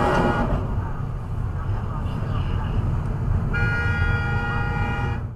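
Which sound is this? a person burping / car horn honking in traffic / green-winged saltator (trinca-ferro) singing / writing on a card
car horn honking in traffic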